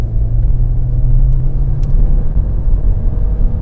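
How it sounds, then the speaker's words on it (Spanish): Skoda Kamiq 1.5 TSI petrol SUV in Sport mode under full-throttle acceleration, heard from inside the cabin as a steady, loud low engine drone and road rumble with a faint rising tone, no talking. "vamos a seleccionar el modo Sport de la conducción, vamos a acelerar a fondo"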